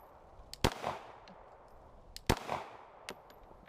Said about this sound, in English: With the Glock here, demonstrating some one-hand shooting